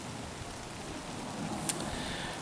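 Light drizzle falling in wet, quiet woods on a cool 40-degree day, a soft steady patter of fine drops that holds even throughout, with a single faint tick near the end.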